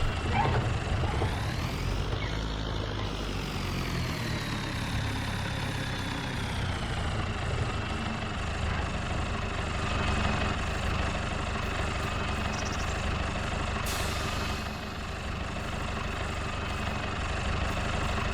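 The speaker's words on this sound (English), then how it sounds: "it's quite a big trailer for such a small tractor" A small farm tractor hitched to a big trailer idles steadily, a continuous engine drone with a whine that rises and then settles, running alone with no talk.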